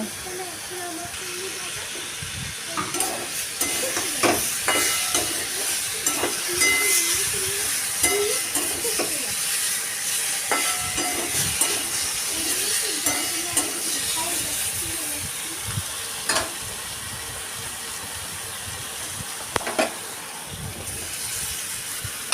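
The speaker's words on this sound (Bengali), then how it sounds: "পটল আলু আর গাজর একটু ভালো করে নাড়াচাড়া করে ভালো করে ভেজে নিতে হবে" Pointed gourd, potato and carrot fry with spices and ginger paste in a pan, a constant steamy hiss and sizzle broken by scattered clinks and scrapes of stirring.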